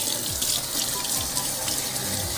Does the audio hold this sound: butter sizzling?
no